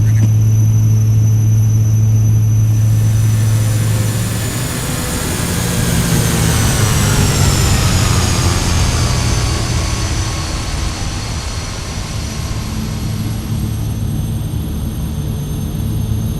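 Inside a Beech King Air in flight, the engines give a loud, steady droning rumble. Its tones shift gradually as the throttles are advanced, filling the cabin continuously.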